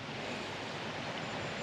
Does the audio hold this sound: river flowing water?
yes